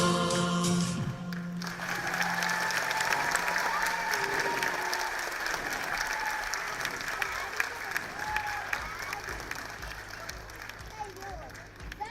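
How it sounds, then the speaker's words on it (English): A large audience at a school annual day in Qatar applauding loudly and continuously, dense clapping with cheers mixed in, after a brief sung note at the start. "Can we give him another huge round of applause?"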